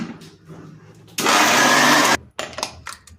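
A kitchen blender whirls mango lassi, switching on abruptly into a steady, loud motor roar that holds for about a second and then cuts off, with softer handling clatter before and after.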